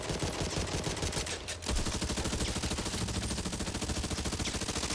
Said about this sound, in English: weapons like the M4, right? It shoots too fast, just like the MP5 and things like that, but it has lots and lots of bullets